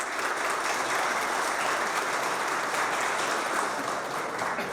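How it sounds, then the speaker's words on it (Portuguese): Dense, even audience applause at a retail and franchising business event in Brazil fills the whole stretch, loud and sustained with no letup. "Uma salva de palmas para todos vocês."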